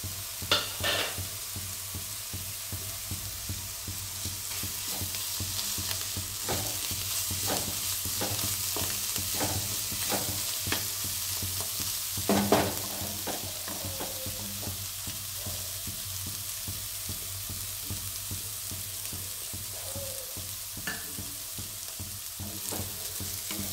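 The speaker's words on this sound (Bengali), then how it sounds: "এই মশলাটা একটু কষিয়ে নেই" Spice masala with chopped coriander leaves fries and is stirred in a pan for coconut chana dal, a soft, steady sizzle with frequent scraping stirs and occasional louder clatters, close and without voices.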